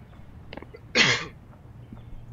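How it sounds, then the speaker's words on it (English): A single sharp cough bursts out midway, close and loud, between quiet stretches of faint background game sound. "I just coughed."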